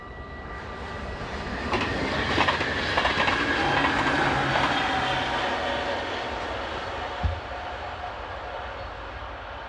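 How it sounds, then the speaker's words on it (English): A Class 4000 train, number 4055, passes southbound near Roermond: a rising rumble with wheel clatter and faint squeal peaking midway, then a steady fading roll. "Heading south is Class 4000, number 4055."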